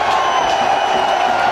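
Spectators in Hamilton's cricket stadium keep up a loud, sustained cheer for Sehwag's century against New Zealand, a thick, unbroken roar of massed voices at an even level.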